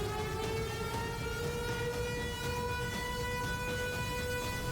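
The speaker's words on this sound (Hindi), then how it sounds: "सायरन की आवाजें गूंज रही हैं।" Air-raid sirens over western Kyiv during the Russia-Ukraine war wail continuously in steady, sustained tones that hold throughout, loud and unbroken, with no voices.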